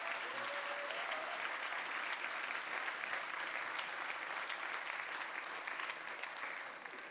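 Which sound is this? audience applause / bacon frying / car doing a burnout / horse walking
audience applause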